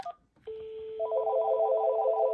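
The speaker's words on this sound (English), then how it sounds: "and then the phone rings." A Panasonic or VTech/AT&T cordless phone with a smart call blocker rings after a short prompt tone: a steady beep, then a warbling electronic ring tone, clear and fairly quiet.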